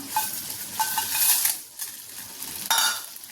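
Dried red chillies fry in oil with a light crackling sizzle and a few metallic utensil clinks against the pan, close and intermittent over a few seconds.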